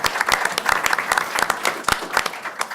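Applause from a modest audience at an oncology roundtable, many crisp individual claps overlapping in a lively, uneven patter that fades slightly toward the end.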